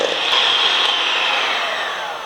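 Electric hand mixer whirring at high speed as it beats egg yolks with sugar for a zebra cheesecake batter, a steady high-pitched motor whine held continuously and close, fading slightly toward the end.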